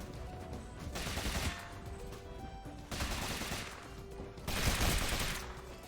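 Shotgun-like weapon firing in the action game Rogue Legacy 2, three heavy roaring blasts spaced a couple of seconds apart, each a broad sustained burst over a rumbling, busy game soundtrack, no voices.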